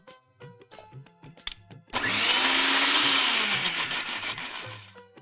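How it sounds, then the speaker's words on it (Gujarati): A kitchen mixer grinder blends paneer chutney with added water. After scattered light clatter it starts suddenly into a loud, continuous motor roar, then gradually eases before stopping. "ઓકે, મિક્સરમાં આપણે એને ચર્ન કરી લઈએ."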